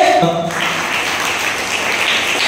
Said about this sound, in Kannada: ಜೋರಾದ ಚಪ್ಪಾಳೆ.